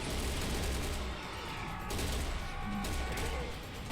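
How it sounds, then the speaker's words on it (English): Gunfire in the video game Serious Sam Fusion, fired by floating enemies: dense, continuous rapid shooting for the whole stretch, loud and close, with brief dips in intensity between bursts. "I really like their shooting sound."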